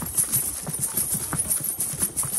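Horses' hooves clip-clop in a steady, overlapping rhythm on a mountain pilgrimage path toward Shiv Khori, close and continuous over a bright background hiss.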